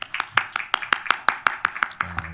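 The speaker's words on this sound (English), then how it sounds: "Give Ariel a round of applause." A small gathering at a day-of-healing reflection event applauding Ariel: a sparse handful of distinct claps in an uneven rhythm, close and crisp, with no voices.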